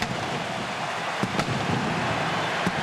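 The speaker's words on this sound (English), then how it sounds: "They set off the cannons because they're at the other end of the field" Cannon blasts from the pirate ship at the Tampa Bay Buccaneers stadium during a 2002 Monday Night Football game, heard as a few sharp booms over constant loud crowd roar.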